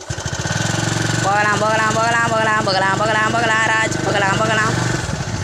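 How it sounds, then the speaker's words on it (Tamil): Vehicle engine running loud and steady, with a droning, lawnmower-like rumble as it pulls away and speeds off, while people talk over it. "ஏய் வண்டி போகுதுங்க ஸ்பீடாக போகுது வண்டி"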